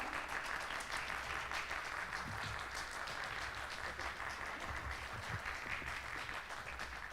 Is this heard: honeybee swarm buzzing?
no